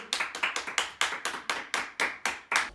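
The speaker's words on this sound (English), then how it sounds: "let's give everybody a great big clap" Rhythmic group clapping from a small family gathering at a home birthday celebration, steady evenly spaced claps close by, roughly a dozen sharp beats in a row.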